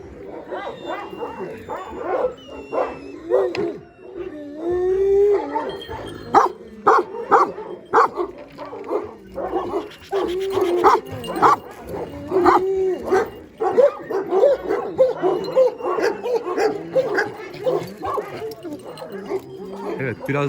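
Several Kangal dogs on a dog farm bark and yip in bursts, some sharp and near, others whining, with a person talking intermittently underneath.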